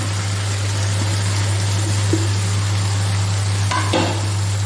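Ridge gourd and potatoes fry in masala in a pan with a steady close sizzle under a constant low hum and a few faint clinks of stirring.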